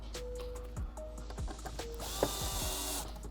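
A screw being driven in on a composite rear quarter extension of a C7 Corvette (ZR1, Z06 or Grand Sport), with short ratcheting clicks and brief whining tool bursts, close and fairly quiet.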